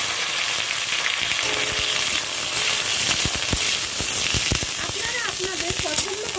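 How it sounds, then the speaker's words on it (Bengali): Cut pointed gourd (potol) pieces fry in hot oil with a steady, bright sizzle and crackle, joined by a few soft clattering stirs partway through. "এবার কেটে রাখা পটলগুলো আমি এই তেলের মধ্যে দিয়ে দিলাম।"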